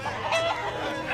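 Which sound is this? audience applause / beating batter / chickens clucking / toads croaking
chickens clucking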